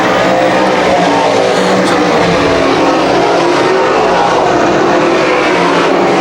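Modified race cars roar loudly down the front stretch at Can-Am Speedway, a dense, steady wall of engine noise from several cars close by, with no talk.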